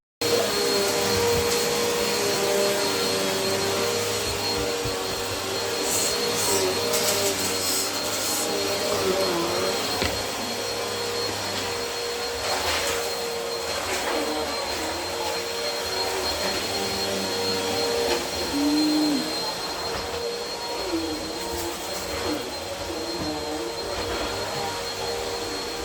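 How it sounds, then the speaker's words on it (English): A vacuum cleaner runs steadily in a home during post-party cleanup, with a loud, constant motor whine and roar heard up close throughout, and its pitch shifts slightly as it moves over the floor. "I was just going to vacuum really quick."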